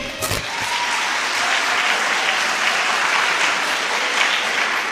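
Audience at an award ceremony applauding a government teacher honoured with a gold medal, continuous dense clapping holding at an even, fairly loud level throughout.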